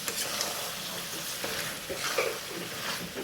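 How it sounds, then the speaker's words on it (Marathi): Grated coconut roasts over chicken in a hot pan, giving a steady, close sizzle with occasional soft stirring scrapes throughout. "आता हे खोबरं पण ह्याच्यावर चांगलं भाजून घेते"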